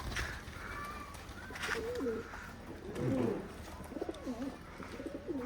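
Several high-flying pigeons coo in soft, low, rolling phrases close by in Khulna, Bangladesh, with a few faint chirps and background noise.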